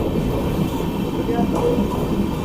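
A Dehradun–Amritsar Express with brand-new LHB coaches rolls along in a steady, close low rumble of rail travel, with faint voices in the background.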